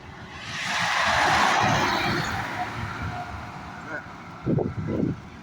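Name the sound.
tractor passing by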